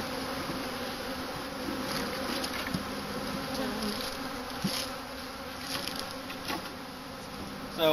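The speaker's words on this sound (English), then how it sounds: "These are some angry bees." Angry honey bees swarm around an opened hive during a late-winter apiary check, a dense, steady buzzing drone that fills the scene, close and continuous, with individual bees zipping past.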